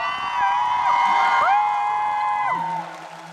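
A concert crowd at a sound check cheers and whoops to support the live band, with high, sustained shouts gliding in pitch and fading near the end.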